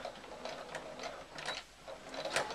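A sewing machine stitches backwards and forwards over piping on a tissue box cover. It makes a quiet, steady mechanical whir with rhythmic ticking bursts as the needle runs in short passes.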